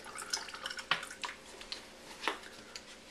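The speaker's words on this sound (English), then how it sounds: "I'm just going to top it off with water." Water pours and splashes into a blender to top it off, a few light drips and splashy bursts, close and fairly quiet, with no talking.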